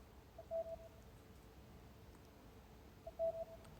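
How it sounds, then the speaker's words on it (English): Two short electronic beeps from a phone notification sound faintly a few seconds apart over a quiet background hiss. "I'm getting so many notifications"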